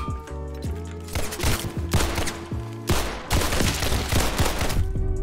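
Rapid volleys of gunfire in Roblox Criminality, loud bursts of repeated shots with short pauses between them, under a faint musical tone.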